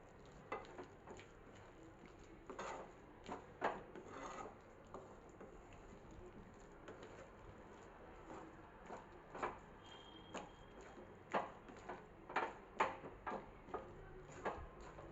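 Peanuts stirred in a pan over a low gas flame while making shing pak, giving soft irregular scraping and clicking taps of spoon and nuts against the pan, fairly quiet and close, with no talking.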